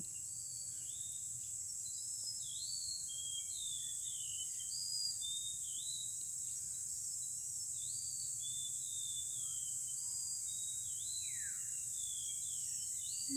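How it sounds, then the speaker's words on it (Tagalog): Repeated short bird chirps and whistles sound outdoors on a golf course over a steady high insect drone, fairly faint and distant. "Mga ibon lang maririnig mo."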